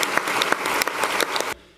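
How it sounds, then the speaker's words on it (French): An audience gives a thunderous round of applause for French ministers at a conference, loud dense clapping with sharp individual claps that cuts off abruptly near the end. "je souhaite aussi que vous réserviez un tonnerre d'applaudissements à Jean-Noël Barrot et à ses équipes"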